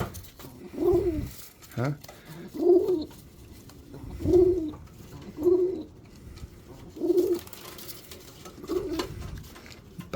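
Local performing pigeons cooing in a loft, a steady series of soft low coos repeating every second or two, close by, with a brief voice and light rustling in the background.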